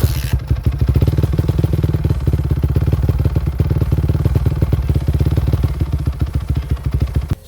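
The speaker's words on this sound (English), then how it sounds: "when starting an engine after an oil change, you should only run it for about 10 seconds at most." The engine of a Kawasaki KX250F motorcycle runs just after an oil change, a loud, close, steady fast-pulsing idle that keeps going for several seconds and then cuts off.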